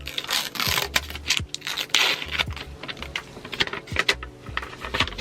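Tissue-paper packaging is peeled off new headphones close up, with dry crinkly tearing and rustling in short bursts plus small clicks and scrapes.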